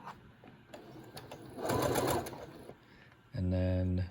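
A sewing machine stitches a fabric face mask in two short bursts, first a rougher whirring run and then a steady close buzzing hum, with soft handling noises between.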